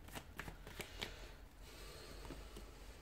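Tarot cards shuffled by hand, a quiet close-up run of quick papery riffles and taps, with several crisp bursts early on and then a softer continuous shuffling.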